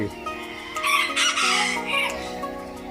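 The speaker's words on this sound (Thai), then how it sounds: "ไก่ป่าไทย" A bantam rooster with Thai red junglefowl colouring crows loudly and close by at Chatuchak market, one long drawn-out crow with a ringing, harmonic tone, some clucking at the start.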